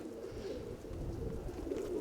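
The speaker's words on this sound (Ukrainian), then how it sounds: "Так зіграли голуби." Pigeons coo softly and continuously, a low murmuring flock sound heard at a distance with steady faint outdoor background and no talking.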